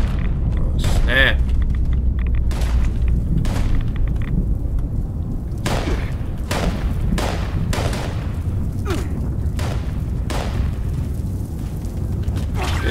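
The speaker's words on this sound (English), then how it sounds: "Didn't see that explosion" A nuclear blast goes off in the post-apocalyptic game Fallout 76, heard as a sustained deep rumbling boom with repeated sharp cracks and bursts over roughly thirteen seconds, with a voice speaking intermittently.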